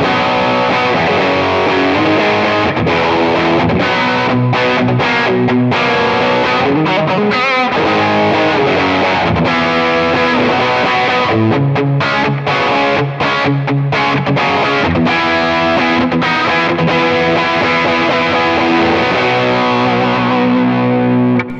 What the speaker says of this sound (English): I'm going to push it to the two stage now. And check out the distortion that it gives.